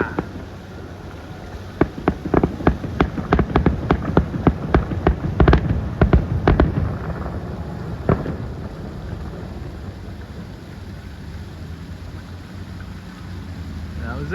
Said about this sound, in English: So like I said, I get excited about fireworks.